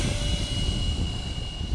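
A Hobby King Hall Cherokee RC model plane launches with a steady, close motor drone and a thin whining tone held throughout the brief moment.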